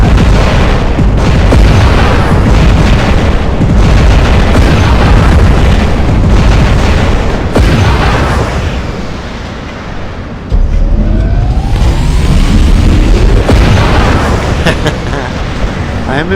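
Video game weapon unloading a full load against an energy shield: loud, dense booming blasts and explosive bursts that pile up continuously, with a brief dip midway before the barrage resumes, and a voice talking over it.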